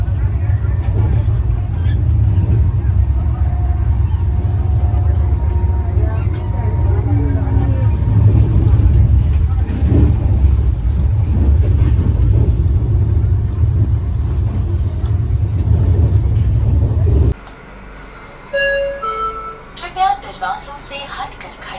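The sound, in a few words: Shatabdi Express train running at 130 km/h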